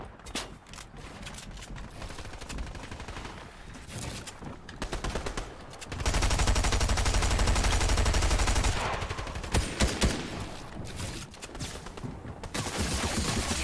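Gunfire rattles through a Fortnite match in bursts and rapid volleys, with a loud sustained stretch of automatic fire in the middle and mechanical clicks around it, near and dominant.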